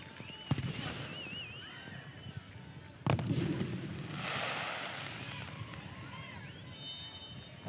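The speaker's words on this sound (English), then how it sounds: "As the fans celebrate with some fireworks outside the stadium." Fans set off fireworks outside a football stadium during a Concacaf Champions League match: sharp distant bangs and crackling bursts, two of them prominent, over steady crowd noise while a commentator talks throughout.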